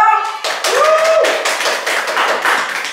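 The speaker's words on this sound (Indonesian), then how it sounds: "tepuk tangan dulu dong" Hand claps on a podcast set, a quick burst of close, sharp claps from a few people, mixed with a sliding electronic tone and light voices underneath.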